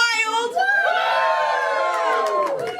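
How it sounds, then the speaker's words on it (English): A comedy show crowd at a New Year's Eve event cheers wildly, a sustained loud roar of overlapping whoops and shouts that holds steady for a few seconds. "once again the crowd went wild."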